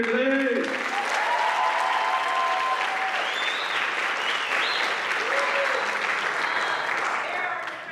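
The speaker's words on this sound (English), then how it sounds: "Can we get one more round of applause for everyone here today?" A large audience at a high school Black History Month event claps loudly and continuously for several seconds, with a few cheers and whoops mixed in before it begins to taper.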